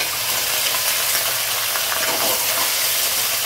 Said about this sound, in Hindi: प्याज जो है पूरा नहीं भुने, हल्का ही प्याज भुनाया है तो हम चिकन डाल दिए हैं।